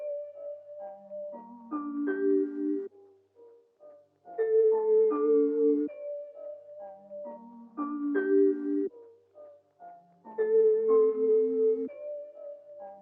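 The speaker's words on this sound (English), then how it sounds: "Next I've used this like bell sound by HZE," Synthesized bell patch by HZE with a mellotron-style chorus effect plays a soft, clean melodic phrase of ringing chord tones that repeats as a loop about every three seconds, heard alone.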